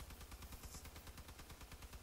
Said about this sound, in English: Now I'm gonna use an SM Hornet, the worst machine gun in the game.